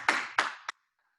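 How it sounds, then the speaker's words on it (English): A short round of applause in an at-home martial arts class: two quick bursts of clapping and a final sharp clap, then silence. "Give them a round of applause."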